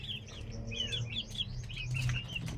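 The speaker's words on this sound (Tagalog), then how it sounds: "at mayroon pa tayo ditong sisiw" Young chicks on a poultry farm peeping in quick, high, repeated chirps, faint and steady against a low background hum.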